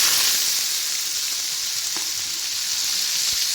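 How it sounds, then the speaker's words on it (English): Pureed onion fries in about four tablespoons of hot oil for chicken varuval, giving a steady, close sizzle with a faint knock or two, and no talking. "now we heat up about 4 tablespoons of oil, and here's our pureed onion"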